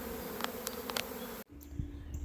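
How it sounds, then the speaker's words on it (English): Honeybees from a caught swarm buzz steadily around a hive box outdoors, with a dense close hum and a few louder individual bees passing near before the sound drops to a quieter, more distant drone. "the rest of those bees will work their way in"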